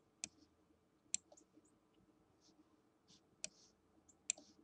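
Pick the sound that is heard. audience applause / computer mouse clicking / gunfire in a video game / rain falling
computer mouse clicking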